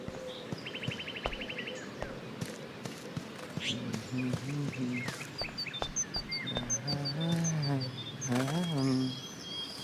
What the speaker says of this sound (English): The birds are flocking around Samuel.